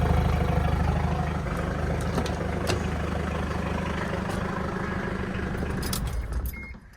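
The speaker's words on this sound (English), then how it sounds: "It does make cool turbo noises." An Isuzu Rodeo engine runs steadily up close with a constant low rumble, light rattles and faint turbo whine on top, fading away near the end; nobody speaks.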